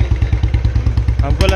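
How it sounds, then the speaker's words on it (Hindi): Exhaust note of a 2022 Royal Enfield Bullet Standard 350 BS6 fitted with an aftermarket exhaust, a loud, close, steady single-cylinder thump pulsing in an even rapid beat, with a brief rev swell near the end. "तो होपफुली गाइज आपको इसका एग्जॉस्ट नोट वगैरह पसंद आया होगा।"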